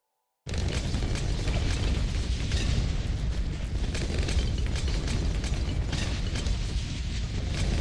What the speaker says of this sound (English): There's a lot of boom boom.